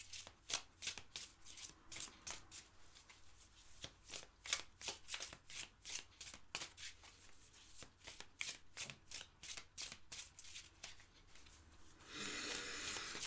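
Tarot cards being shuffled by hand, a long run of quick, crisp riffling flicks at close range with no talk, ending in a brief louder rustle as a card is drawn.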